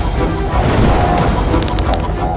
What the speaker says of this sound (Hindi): अब देखो रावण के बाणों की आंधी